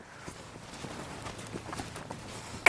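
A horse moves around a round pen during early pre-breaking groundwork, its hooves giving a steady, fairly quiet clip-clop rhythm, with a sharper bump near the end.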